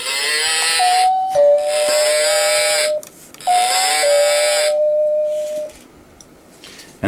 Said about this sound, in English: And that's the doorbell, the Cowbell doorbell.